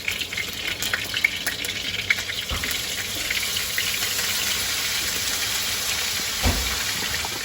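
Steady hiss of hot oil sizzling in a wok on high heat, with wild hog meat, continuous and close, with a faint clink or two partway through.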